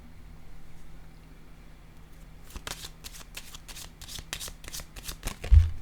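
Playing cards are handled quietly at first, then riffled and shuffled in a quick close run of crisp flicks and snaps, ending with a soft thud as one is set down.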